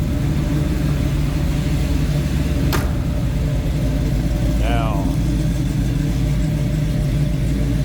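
A 427 V8 engine in a 1968 Chevrolet Nova coupe idles with a steady low rumble throughout, while someone talks over it near the start.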